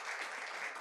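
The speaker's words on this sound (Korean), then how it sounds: "잘하시라고 우리 박수하겠습니다." A church congregation gives a quick burst of applause, a dense, even patter of many hands heard at moderate volume and cut short, with no voices over it.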